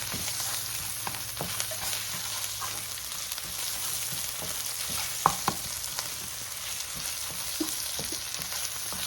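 Vegetables with a little salt sizzle steadily in a pan for Southern-style chicken cacciatore, with soft intermittent scrapes and taps of a stirring utensil over the constant frying hiss, no voices.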